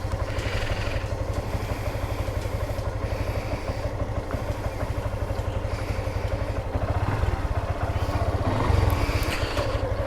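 A Yamaha FZ version 2 motorcycle engine runs steadily at a low rumbling idle, a continuous pulsing throb with light mechanical clatter, moderately loud throughout without voices.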